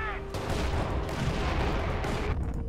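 Rapid machine-gun fire and battle noise in Company of Heroes 2, a dense burst of overlapping gunshots with a sharp onset, loud and continuous for a few seconds.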